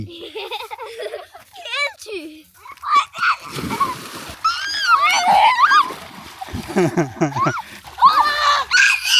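Water splashes as a child ducks under in village water, with children's excited voices, giggles and laughter mixed through the splashing.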